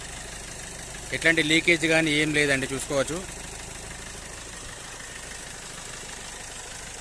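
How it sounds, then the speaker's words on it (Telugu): A 2018 Hyundai Verna 1.6 SX(O) diesel sunroof model idles with a faint, steady hum. Someone speaks briefly over it, then the engine runs on alone. "ఇంజన్ సౌండ్ చూసుకుంటే ఇట్లా ఉందండి స్మూత్ ఉంది ఇంజన్ సౌండ్ మాత్రం"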